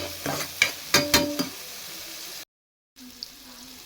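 Chili spice paste with garlic and green chili being fried and stirred in a pan, with a few loud scraping stirs over a sizzle, then a brief cut to silence and a quieter sizzle.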